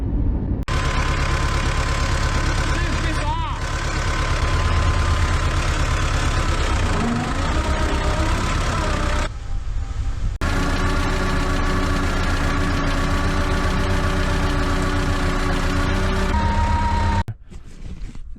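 Soviet-made tractor engine idling, a loud, steady low rumble with a rough knocking pulse that runs almost continuously, broken by a couple of short cuts.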